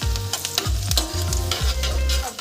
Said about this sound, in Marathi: आता आपण याच्यात लसूण घालून घेऊ